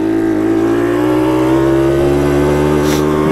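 A motorcycle engine held in second gear while climbing a gentle hill, droning loud and steady with a sustained even hum and no shift to a higher gear.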